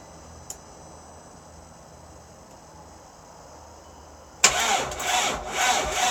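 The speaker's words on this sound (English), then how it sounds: "For some reason it's not cranking over correctly." An engine starter cranks on a vehicle that is struggling to start, with a sudden loud grinding churn that begins after several seconds of near silence and keeps going unevenly.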